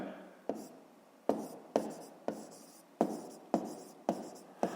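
A pencil on paper making a series of about eight short scratchy strokes at an uneven rhythm, quiet and close, with no talking.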